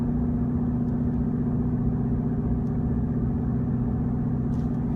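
Low, steady rumble from a 2015-18 Ford Mustang with a Corsa exhaust cruising in fifth gear at about 40 mph with the windows up, a muted drone heard from inside the cabin with faint ticks on top.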